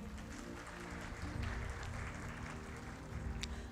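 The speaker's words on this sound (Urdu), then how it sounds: "رفیق صاحب سے آپ سب کی ملاقات ہو جائے، اور آپ سب کی تالیاں یہ تعین کریں گی کہ یہ ملاقات کتنی خوشگوار ہے" An audience at a real estate gathering breaks into a brief burst of applause, clapping steadily over background music.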